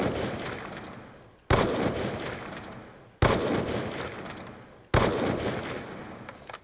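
Four heavy sniper rifle shots from Black Ops 2 while drag scoping, each a sharp, loud crack followed by a long decaying boom, evenly spaced about one and a half seconds apart, no speech.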